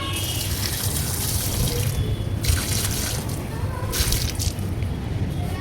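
Water pours continuously onto a parijatham (night jasmine) plant, a steady close splashing rush with a few brief louder gushes and no voices over it.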